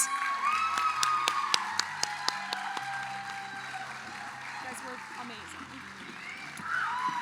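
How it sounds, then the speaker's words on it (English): An audience at an evening ambassador coronation ceremony claps and cheers for the candidates, a dense roomful of overlapping hand claps and crowd noise that carries on steadily throughout, with sharp individual claps and voices murmuring beneath. "Let's give these wonderful candidates a round of applause."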